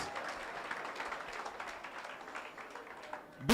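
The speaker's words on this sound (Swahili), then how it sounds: "Wapi makofi ya Innocent." Applause at a BF SUMA seminar in Nairobi, a crowd clapping steadily and fairly evenly for several seconds, moderately loud and continuous, tailing off with a brief louder burst at the end.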